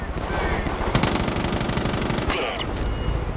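Loud rapid automatic gunfire from the video game Far Cry 5, a fast regular burst of shots that stops abruptly, set against a busy game soundscape.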